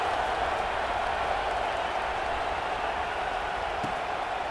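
A stadium crowd in an EA Sports NCAA college football video game gives off a steady, dense roar of cheering and murmur throughout, loud and unbroken, with no individual voices standing out.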